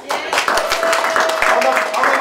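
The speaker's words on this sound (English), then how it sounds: "y'all give all the contestants a round of applause" Audience at a DeKalb County sanitation employee hip-hop competition claps for the contestants, scattered hand claps mixed with cheering and voices over a loud, busy room.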